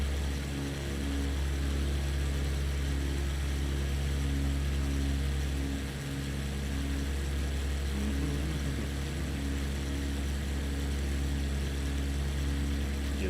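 Propeller plane engine in Microsoft Flight Simulator 2020, flying near Fort William in Scotland, drones steadily with a constant hum and pulsing throb throughout, close and unbroken, with no talk over it.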